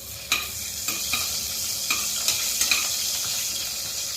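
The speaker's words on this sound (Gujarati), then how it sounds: "તજ, લવિંગ, મરી અને એલચી નાખી દઈશું। હવે આપણે થોડું એને સોતરશું।" Bay leaf, cinnamon, cloves, peppercorns and cardamom fry in hot oil for moong pulao, a bright steady sizzle punctuated by several sharp spatula taps and scrapes against the pan.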